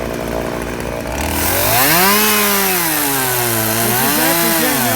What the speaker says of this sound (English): cutting with a chainsaw